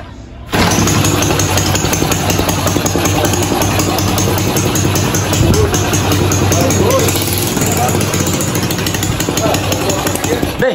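Yamaha Fazer 250 motorcycle engine running after carburetor tuning, a loud, steady, close mechanical chatter and rumble that holds throughout, with faint voices in the background.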